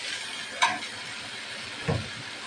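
Noodles being stirred with spice masala in a pan, a steady sizzling hiss with two brief scraping clatters of the utensil, close and moderately loud.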